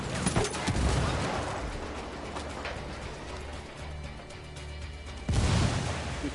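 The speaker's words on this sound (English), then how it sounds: "Grenade!" A grenade explosion and gunfire in a Ghost Recon video game: a rattle of shots near the start, a lower stretch of battle noise, then a sudden loud burst near the end.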